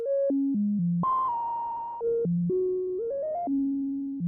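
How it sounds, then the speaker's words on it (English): A pure, clean electronic sine tone from a synthesizer low-pass filter module steps through a sequence of sustained pitches, jumping up and down in a melodic pattern with faint added noise. "here's just the raw sine wave"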